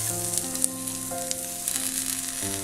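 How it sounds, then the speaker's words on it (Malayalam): Finely chopped onion frying in olive oil on a hot tawa, a steady close sizzle with faint stirring scrapes and no talk over it. "ഇനി ഇതിലേക്ക് നമുക്ക് സവാള ചേർക്കാം."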